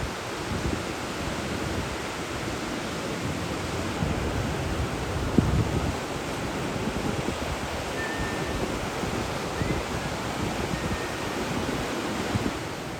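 Ocean waves breaking on a surf beach in Nicaragua, a continuous roaring wash of surf with wind buffeting the microphone, steady and loud throughout with slight swells in intensity and no talking.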